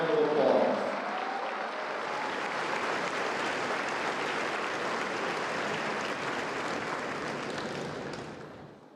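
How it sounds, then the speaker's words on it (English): A large graduation crowd in Frankfort applauds Hall of Fame inductees in a dense, steady wash of clapping that holds for several seconds and tapers off at the end, with a brief tone or voice at the start. "let's give all of our inductees a warm Frankfort round of applause."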